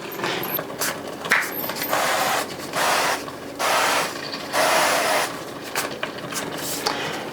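Avocado oil cooking spray is sprayed onto a bun pan in several short hissing bursts, each about a second long, close by and steady with brief gaps between them and no talking.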